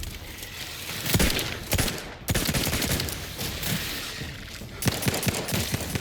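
Gunfire from The Outer Worlds 2, a string of sharp, loud shots in irregular bursts over a constant rumble of combat, several heavy reports standing out near the start and end.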